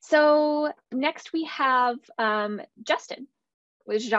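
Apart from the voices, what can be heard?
No distinct noise like a dog, phone or traffic.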